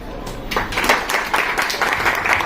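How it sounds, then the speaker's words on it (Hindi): Audience applause at a pre-launch programme welcoming the host, Mr. Pradeep Sagar: steady, dense clapping that holds at an even level throughout with no pauses. "थोड़ा अच्छी सी तालियों से स्वागत करेंगे सर का।"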